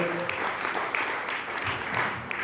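A church congregation claps during a sermon, a dense steady wash of applause filling the whole stretch at moderate loudness with a few sharper claps standing out.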